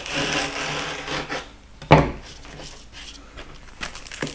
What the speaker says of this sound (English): line it up with the edge, and cut it with the razor knife